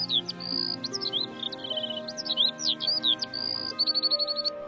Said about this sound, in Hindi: जहाँ वही तोते फिर से आपस में बात कर रहे होते हैं